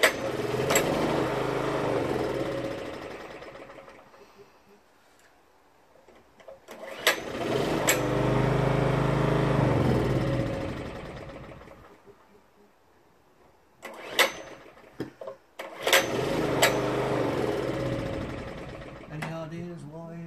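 A Performance Power 780 two-stroke generator with a starting fault repeatedly sputters into a rattly running buzz, dies away, and is restarted in several bursts nearby.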